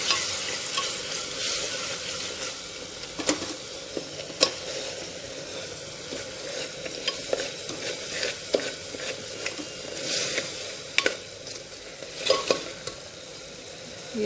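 Pumpkin sabzi spiced with amchur and hing fries in a pan, a soft steady sizzle broken by scraping stirs and occasional clicks of the spoon against the pan, close and without speech.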